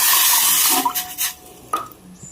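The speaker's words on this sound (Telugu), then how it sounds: "ఇప్పుడు స్టవ్ వెలిగించుకొని గిన్నె పెట్టుకుని 2 కప్స్ వాటర్ పోసుకుందాం." Water splashes and pours into a vessel for about a second, then a few brief clinks and drips follow in a quiet room.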